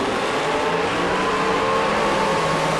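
A drag race car, a Malibu, launches hard off the starting line at a drag strip, its engine roaring loud and steady with no break.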